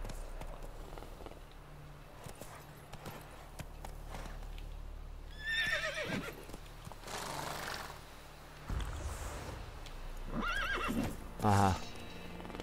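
A horse neighs and whinnies several times while its hooves clip-clop along as it is ridden, with faint rustling and occasional voices in between; the neighs come in distinct bursts, the last one loud and close.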